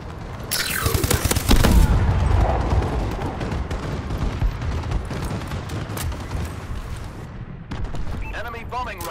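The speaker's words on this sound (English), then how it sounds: "Enemy bombing run overhead." Heavy explosions and rapid gunfire from an enemy bombing run in Call of Duty: Advanced Warfare team deathmatch, a booming barrage rolling over continuous shooting, with brief radio-style voice callouts layered in.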